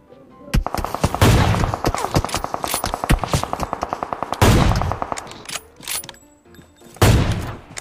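Video game gunfire in rapid automatic bursts, bright repeated shots rattling off in long strings between heavier booming blasts, loud and close, with faint voices underneath.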